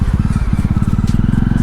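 Jawa 42 motorcycle engine thumping steadily at close range as the bike rides over rough Himalayan mountain terrain in Uttarakhand, a loud, rapid low pulsing with faint rattles above it.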